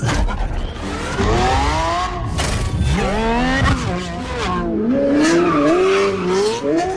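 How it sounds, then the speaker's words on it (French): A Lamborghini Revuelto slides sideways across snow, its loud engine revving and rising in pitch almost continuously, with skidding tire noise throughout. "Et oui, Lamborghini Revuelto dans la neige, en travers, un peu partout."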